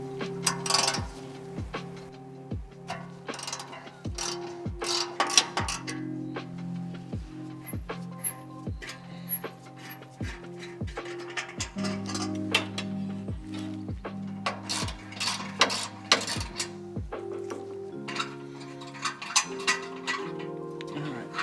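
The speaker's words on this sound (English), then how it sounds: "we're gonna remove these two 14mm nuts right here with the socket wrench" Close, crisp ratcheting from a socket wrench taking off two 14mm flange nuts on a Lexus GX550 exhaust, in repeated short bursts of clicks separated by brief pauses, with no voices.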